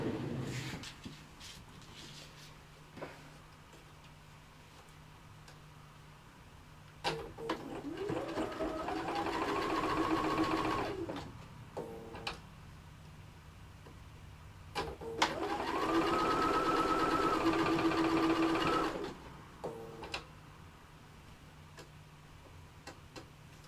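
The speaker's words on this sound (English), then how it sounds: "now I just need to sew that into place around" Sewing machine stitching a vanity case in a quiet room: two runs of several seconds each, the motor whirring up to a steady, rapid stitching pace before stopping, with faint handling clicks in between.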